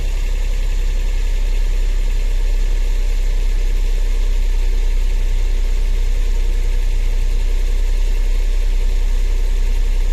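Suzuki Every engine idling steadily at 1,500 RPM, a continuous even hum with a constant low rumble throughout, close by with no talking.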